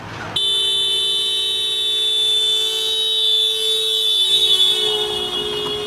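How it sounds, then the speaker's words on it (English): A passing horn used to demonstrate the Doppler effect: a loud, bright, steady horn tone that cuts in abruptly and holds for about five seconds, shifting only slightly toward the end, with no talking. "what is now called the Doppler effect. And it sounds like this."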